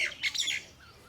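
A bird perched on a teak branch in Khisma Forest, Nadia, gives a few harsh, squawking calls in quick succession, fairly close, then falls quiet.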